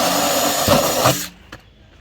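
A power drill bores a hole into the center of a plastic barrel being made into a raised garden bed, a loud whirring grind that cuts off abruptly, followed by a brief knock and near silence.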